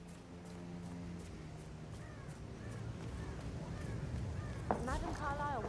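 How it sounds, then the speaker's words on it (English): Crows caw repeatedly in Hitman 3, harsh calls clustering toward the end over a murmur of background voices and ambient bustle, with occasional hoof-like clopping. "It's the birds. They're making a racket, dropping everywhere."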